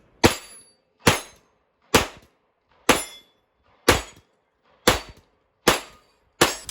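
A CZ Scorpion Evo fires eight evenly spaced single shots with its brace folded, each a sharp, loud crack followed by a brief decay, with no voices.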